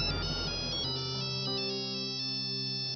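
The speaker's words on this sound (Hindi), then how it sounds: "गायत्री जी का फोन है।" Telephone ringtone playing loud and close in a Hindi television serial, a steady electronic melody that runs on without pause and without any voices.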